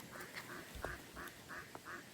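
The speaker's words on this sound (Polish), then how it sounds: "ja nie wiem, czy będzie słychać kaczki" Faint ducks quacking at a distance, a series of short nasal calls in an uneven rhythm over soft background noise.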